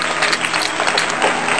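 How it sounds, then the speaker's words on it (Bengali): A short burst of brisk clapping from a group at a school, applauding a young pupil, steady and fairly loud throughout. "এর জন্য একটু হাততালি হয়ে যাক"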